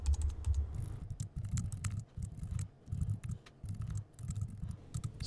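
Quiet, rapid clicking of keys on a computer keyboard, typed in uneven bursts with short pauses, close and soft.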